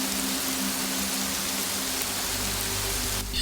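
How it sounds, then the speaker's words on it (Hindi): Heavy rain falls steadily at night as a dense, even hiss of drops hitting a surface, constant and close throughout, with a low hum underneath. "उस रात को भी पहले की तरह जोर की बारिश हो रही थी।"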